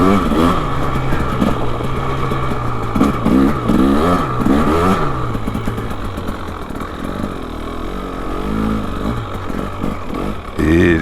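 A 2025 KTM 300XCW Champion Edition two-stroke dirt bike ridden off-road on soft, slippery ground, its engine revving up and down in close, loud bursts over a steady buzzing drone for the whole stretch.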